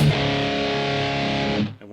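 A quick distorted electric guitar lick, played slowly and close with a heavy, gritty tone that sustains for over a second before cutting off into a brief decay.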